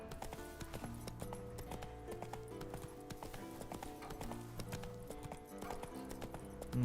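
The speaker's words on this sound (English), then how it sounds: "Run, Roach. I'll let Roach follow the road." Horse hooves clip-clop steadily at a run along a road in The Witcher 3: Wild Hunt, a continuous rhythmic patter under game music at moderate, even volume.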